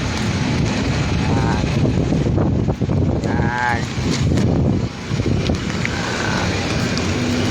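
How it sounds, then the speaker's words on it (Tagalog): Strong wind buffets the microphone outdoors on a cold, sunny day, a steady loud roar and rumble with gusting surges, while people talk beneath it. "malamig dahil malakas pa yung hangin"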